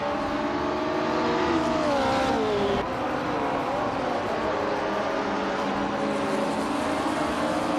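Vintage race cars, including a 1968 Porsche 909 Bergspider, roar off the start at Grindelwald Long Track in a racing video game, engines revving and shifting pitch continuously at close range.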